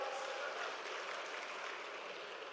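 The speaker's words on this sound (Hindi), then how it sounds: "जोरदार ताली वाली बजाओ भाई।" Dense, steady crowd applause at a political farmers' event, with the Madhya Pradesh agriculture minister being welcomed on stage. The clapping is heard alone, as a continuous wash of many hands that holds even for the whole stretch before easing slightly.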